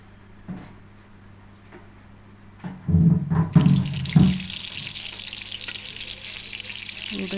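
Stuffed eggplants frying in oil in a pan: a few clatters and knocks as the pieces go in, then a loud, steady sizzle and crackle that carries on close by.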